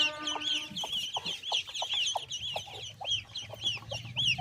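A group of small baby chicks and ducklings, let out into the open, cheep constantly in rapid, high overlapping peeps. Softer low clucking and faint background noise sit underneath.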